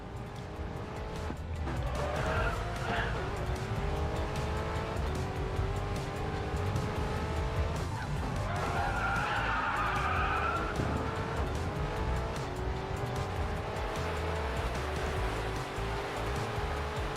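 A Porsche 911 GT3-style 4GT race car in the Racing Master mobile racing game oversteers through corners, with a sustained engine drone and long tire squeals and skids rising in the middle, continuous and close with no talk.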